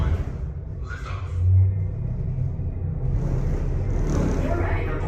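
A deep, steady rumble rises under the simulated space elevator liftoff on Disney's Space 220 ride, with a swell early on and muffled voices in the background.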